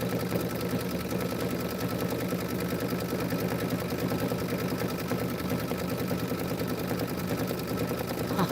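Sewing machine stitching the railing section of a quilt, a steady rapid mechanical whir with fine rhythmic clatter running unbroken at moderate level throughout, no voices.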